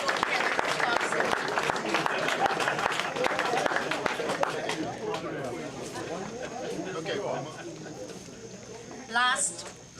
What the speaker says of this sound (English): Would you please raise your hands and give a rousing round of applause?